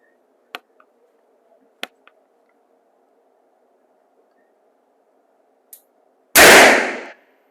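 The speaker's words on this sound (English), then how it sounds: "our first thing we're going to shoot is going to be this 32 ACP, and he's going to use a little Charter Arms gun for this one." A single loud, sharp gunshot from a small Charter Arms revolver firing .32 ACP at an outdoor chronograph setup, preceded by a few faint clicks and taps in otherwise quiet surroundings.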